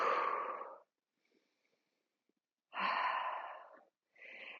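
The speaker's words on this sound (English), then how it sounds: "Nice inhale. And exhale it out." Slow, deep breathing during a Pilates stretch on a reformer: a long, loud breath, a pause, then a second breath and the start of a third, close and alone with no talk.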